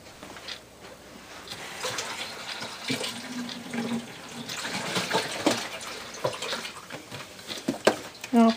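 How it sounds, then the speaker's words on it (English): Tap water runs into a can as it is rinsed out in a kitchen while making chili mac, a soft irregular splashing and trickling that builds toward the end, with some faint background noise. "I'm going to rinse this out with a little bit of water."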